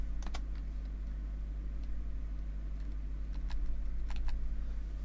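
Faint, sparse key clicks come from a computer keyboard placed behind the person, scattered in small bursts over a steady low hum, with no talking.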